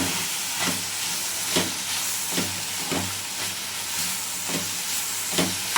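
Okra being fried in hot oil in a pan for a masala curry gives a steady, close sizzle and hiss, with soft periodic stirring scrapes every second or so.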